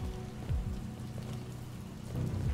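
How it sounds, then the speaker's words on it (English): Steady rain falling in the video game Detroit: Become Human, a continuous soft hiss of drops on surfaces with low rumbling undertones, moderately loud throughout with no talking. "Also, look at the rain."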